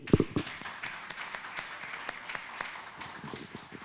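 A church congregation at a worship service applauds in praise, with loose, uneven clapping. A few sharp, close claps at the start give way to a thinner scattered patter that continues throughout.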